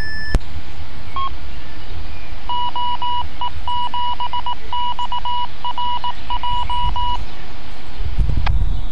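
Radio repeater tones from a Freenet gateway about 130 km away answering a PMR transmission: a brief click, then a rapid sequence of short, evenly pitched electronic beeps in a quick pattern over hiss.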